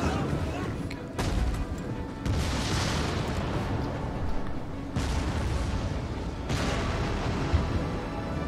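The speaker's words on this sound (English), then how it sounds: "These explosive shots, though, are really mucking up their cavalry." Explosive catapult shots crash down in a Rome Total War 2 battle, heavy booming impacts rolling one after another over a dense, continuous battlefield din with a steady low rumble.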